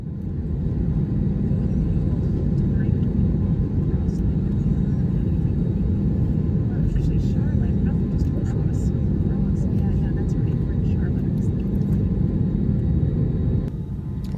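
Jet airliner rumbling steadily while lining up for departure, a continuous loud low engine drone heard from inside the cabin, with faint small clicks and rattles over it before a slight drop at the end.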